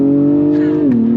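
A 2024 Acura TLX Type S sedan pulls hard in second gear under full throttle, its engine a loud, steady drone heard from inside the cabin that shifts pitch as it revs.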